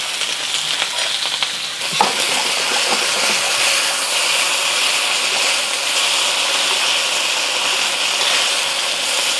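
Beef sears in a hot pan for Cantonese beef chow fun, giving a loud, steady sizzle close by, broken early by a brief clatter, then holding level throughout.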